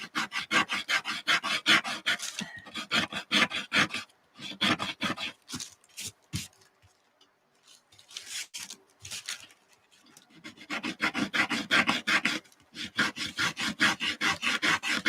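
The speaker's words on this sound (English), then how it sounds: "Just scrape with my palette knife." A palette knife scrapes over layered crayon in an art journal, making rapid, rasping back-and-forth strokes in loud close bursts separated by short pauses, with no talk.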